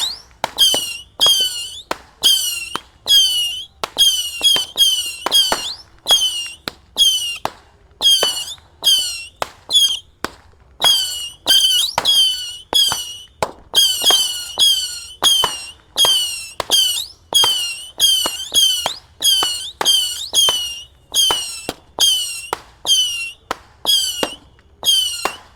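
Mercon Basoka 50-shot Roman candle set off on New Year's Eve 2025, firing a long rapid series of sharp cracking pops with whistling tails, loud and close, in quick irregular bursts with short gaps.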